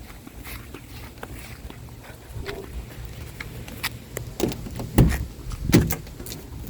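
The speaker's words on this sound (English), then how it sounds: "Open the back doors." Metal clunks and latches as the back doors of a Ford E350 van are handled and swung open outdoors, with a few louder bangs toward the end over low background noise.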